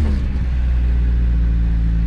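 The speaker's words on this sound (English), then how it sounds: "rev the engine" A lowered Nissan Hardbody truck engine rumbles nearby at a steady, throaty idle, loud and low, with a slight revving swell at the start.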